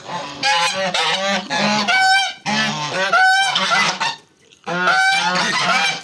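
Geese honk loudly and repeatedly nearby, a noisy overlapping chorus of calls with a brief pause before more honking.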